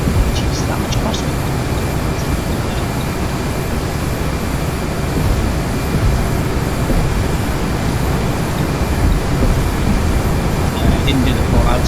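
Embraer E-Jet engines held at takeoff thrust in the Prepar3D flight simulator, a steady, loud, continuous jet roar that stays even from start to finish.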